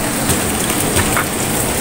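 Steady rain pours down outdoors near a basketball court, a dense, even hiss of drops on surfaces filling the whole stretch without any voices.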